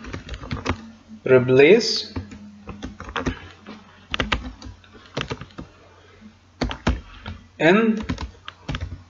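Bursts of clicky computer keyboard typing while entering Python string code, short close runs of keystrokes with a person talking between them.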